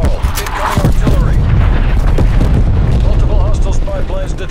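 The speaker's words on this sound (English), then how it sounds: "Incoming artillery." Incoming artillery in the Call of Duty Black Ops Cold War beta, combined arms mode, lands as heavy, continuous booming explosions and rumbling blasts. The barrage stays loud throughout, with scattered gunfire and whistling debris.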